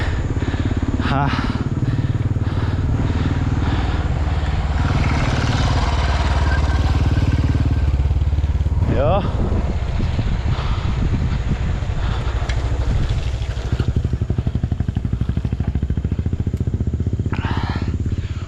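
Motorcycle engine droning steadily throughout a ride toward Kathmandu on a climbing road, with a hot silencer, mixed with wind buffeting the microphone, while people talk over it.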